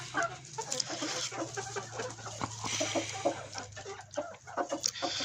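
Several chickens cluck and chatter close by in a lively, overlapping flock, with a rooster among them and a faint low hum underneath.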